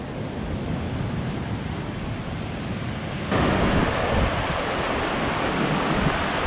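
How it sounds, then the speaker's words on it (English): Ocean waves break against a rocky island shore and headland, a broad roaring surf wash with wind buffeting the microphone; the roar swells louder partway through as a bigger wave hits. "we're going to get belted by this wave"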